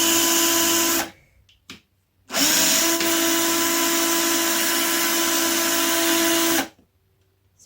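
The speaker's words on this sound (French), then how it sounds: "on prend la visseuse avec un forêt. Et on perce." A cordless drill-driver fitted with a drill bit bores into material, its steady high whine broken by a short stop and restart, then running continuously for about four seconds before cutting off.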